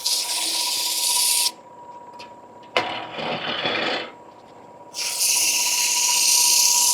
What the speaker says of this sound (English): Go back to the sanding.